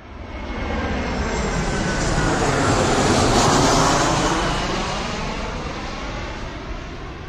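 Airplane engines droning in flight, a broad continuous roar that swells gradually toward the middle and eases off slightly, steady and close with no talking.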